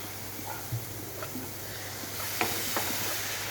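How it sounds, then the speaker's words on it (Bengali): Spiced paste frying in a pan for a fish-roe and pointed-gourd curry gives off a steady, close hiss of sizzling after water is added, with a few soft clinks of stirring. "আমার মশলাটা ভাজা হয়ে এসছে, এবার এর মধ্যে আমি জল দিয়ে দেবো।"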